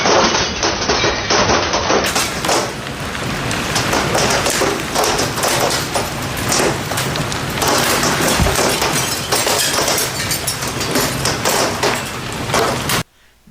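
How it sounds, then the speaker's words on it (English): Baseball-size hail driven by 70-mph winds pounds a house in Bossier City, Louisiana, a loud, continuous barrage of hard impacts and smashing glass that cuts off abruptly at the end. "to get hail the size of baseballs just crashing through your window"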